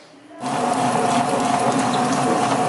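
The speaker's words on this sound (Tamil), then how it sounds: "6 மணி நேரம் நல்லா ஊறினதை இப்போ கிரைண்டர்ல அரைக்கிறேன்" A wet grinder churns soaked red rice for appam batter, starting abruptly after a brief quiet moment, then running as a steady, loud mechanical rumble with a rhythmic gear-like ratcheting and watery swish throughout.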